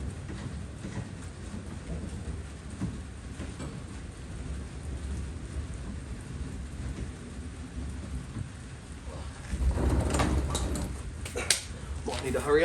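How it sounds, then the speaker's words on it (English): Rain patters steadily outdoors during a thunderstorm while someone works on a Ke30 two-door car, and a low rumble of thunder rolls in near the end with bursts of heavier noise. Faint speech may sit under it. "there's a bit of a thunderstorm now"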